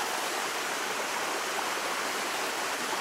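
Small mountain tributary stream rushing over bedrock near a waterfall in Kapiti, New Zealand, a steady, full broadband wash of flowing water, close and continuous with no pauses.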